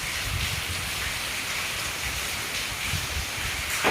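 Steady unseasonal rain falls with a constant close hiss and soft patter, a slight swell near the end, no voices.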